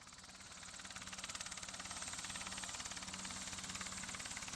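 A KISS 209M ultralight aircraft idles at an airfield before takeoff, its engine running with a steady, rapid pulsing drone that swells slightly and then holds even at moderate distance.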